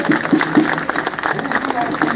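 Crowd applause at an outdoor patriots' rally in Paris, a dense ongoing clapping wash heard under a voice talking over it.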